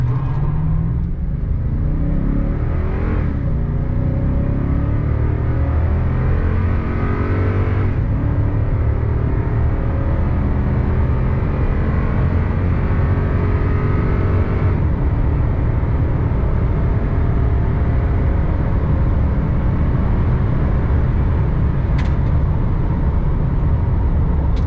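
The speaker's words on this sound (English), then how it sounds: "I'll go ahead and floor it right here. It's gonna spin like crazy." A 2014 Toyota Tundra floored into a burnout, its engine roaring loud and steady with rising revs and a few gear-like shifts in pitch, heard up close with no talking.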